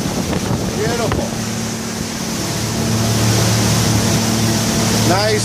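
A 1993 Blackfin 29 Combi powered by 2006 Yamaha 250 four-stroke outboards drones steadily underway at speed, with heavy wind buffeting the microphone and water rushing past the hull.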